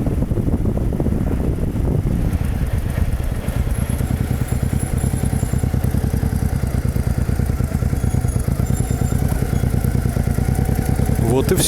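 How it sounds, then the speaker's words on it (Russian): Motorcycles drone along a desert road, a loud continuous engine roar with wind buffeting the microphone throughout, the noise holding steady for the whole stretch while a voice talks over it. "Очень много мотоциклистов встречаю по пути."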